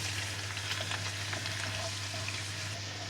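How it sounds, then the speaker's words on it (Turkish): Tomato paste frying in oil in a sauce pan for an eggplant dish, a dense steady crackling sizzle heard close and unbroken, with faint stirring movements and no voices. "Bir miktar yağ koydum sos tavama. Salçayı şöyle bir çevireceğim. Kızarmasını bekleyeceğim."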